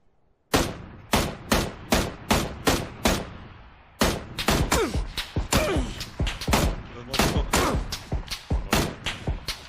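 Rapid bursts of gunfire crack out in an animated crime episode, loud and close, with a brief pause before a denser, overlapping volley of shots follows.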